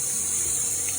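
Water runs steadily from a tap over tie-dyed fabric, rinsing out excess dye in a sink; a constant, close hiss and splash with no speech.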